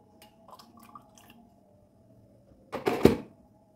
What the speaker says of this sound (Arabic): ونزود ميه